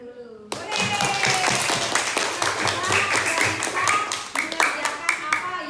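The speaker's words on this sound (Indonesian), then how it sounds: "Coba kita tepuk tangan dulu." A class of pupils claps together in a classroom after their teacher's prompt, a dense burst of many hands that stays lively, with a few sharper individual claps standing out near the end.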